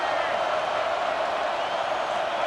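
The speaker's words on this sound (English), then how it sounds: "Listen to the crowd energy here in the early going." A stadium crowd in a college football video game sends up a continuous, dense roar of cheering that holds at a steady, loud level under commentary.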